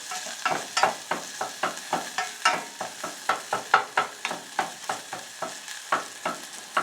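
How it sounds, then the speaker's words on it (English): Garlic and ginger sizzle gently over low heat in sesame oil in a pan. A utensil stirs with regular, evenly spaced scraping strokes above a soft frying hiss, with no voices. "So we'll get this garlic and ginger blooming up in the sesame oil."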